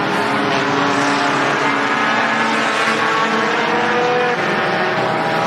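Sport compact race cars battle on the track at Mohave Valley Raceway, with several engines roaring loudly and continuously at close range and no voices.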